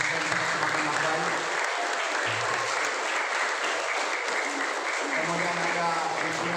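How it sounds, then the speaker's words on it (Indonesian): A crowd at a village literacy camp applauds volunteers from a student community-service post, with sustained, even clapping and an announcer's voice heard over it. "Tepuk tangan untuk teman-teman Posko KKN PSN semakin baik"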